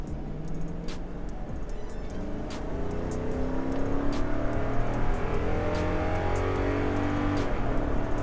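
A Toyota truck with a 5.7 V8 accelerates hard up a road, its engine note climbing steadily and growing louder over about eight seconds, heard from inside or close by with no talk.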